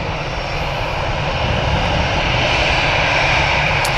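Lufthansa Airbus A320 jet airliner at Manchester Airport, a loud, steady broadband engine roar that holds constant and swells slightly toward the end, close by with no voices.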